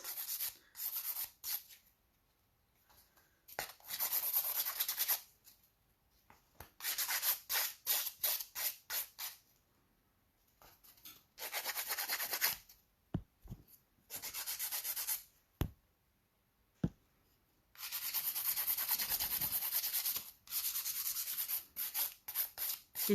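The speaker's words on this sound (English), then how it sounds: "I always find it awkward filing these tips." Nail file rubbing across gel nail tips in repeated bursts of close, scratchy strokes, some quick and choppy, others sustained, separated by brief pauses, with no talking.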